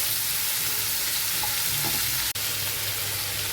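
Pumpkin pieces sizzling in a hot pan with potato for a spiced chickpea dal, a steady, loud broadband frying hiss throughout with a sharp click near the end, no talking.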